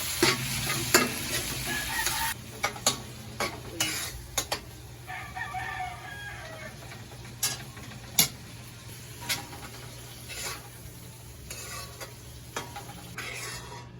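Corned beef and onion are stirred in a frying pan, with a spatula scraping and tapping sharply at irregular intervals over a low, continuous sizzle, and a bird calls faintly in the background.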